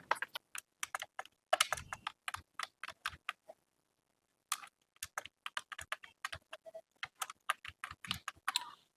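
Rapid computer keyboard typing while details are entered into an online scholarship application form, bursts of close, crisp keystrokes broken by a short pause, no talking.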